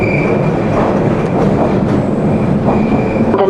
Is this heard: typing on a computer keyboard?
no